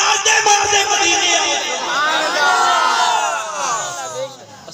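A crowd at a Milad-un-Nabi religious gathering chants slogans together: a loud, dense mass of raised voices swells and sustains, rising in pitch midway before tapering off.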